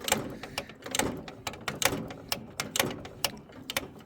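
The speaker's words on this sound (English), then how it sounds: "I'm just gonna take the shifter, move it in both positions as much as I possibly can." A snowblower's snow-throwing chute is worked back and forth after a spray of WD-40, giving a fast, uneven run of sharp mechanical clicks and ratcheting snaps, close and fairly quiet, with no talk.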